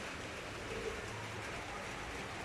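Soft, steady patter of light drizzle, a faint continuous hiss with no distinct drops standing out, heard alone.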